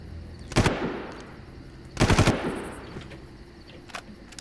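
Two loud sniper rifle shots ring out in the Far Cry game, fired from a hilltop, each a sharp crack with a rolling echoing tail, spaced about a second and a half apart, followed by faint distant pops.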